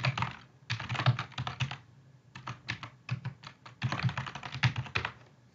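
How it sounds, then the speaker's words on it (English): Someone types on a computer keyboard while entering an email address, quick bursts of close key clicks with brief pauses, no talk. "Type in your email."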